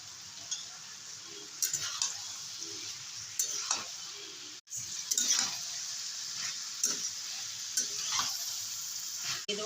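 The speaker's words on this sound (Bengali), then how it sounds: "ভাজা মাছ দিয়ে দেবো" Fried bele fish added to a hot, sizzling pan on a raised gas flame and stirred, a steady crackling fry with repeated scraping and clinking strokes of a utensil against the pan.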